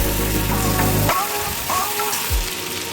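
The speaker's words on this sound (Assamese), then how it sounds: "চিকেনটো প্ৰথমতে ধুনীয়াকৈ ফ্ৰাই কৰিব লাগিব।" Chicken frying in a pan for an Assamese-style chicken curry, giving a steady close sizzle throughout with a low rumble that drops away after the first second.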